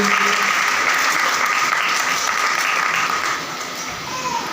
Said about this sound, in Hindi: तालियों के साथ खुशी का इजहार कीजिए।